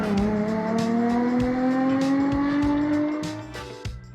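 A Mazda car with a tiny 1.8-liter V6 revs and accelerates up close, its engine note climbing smoothly for several seconds with rhythmic clicks, then easing off near the end.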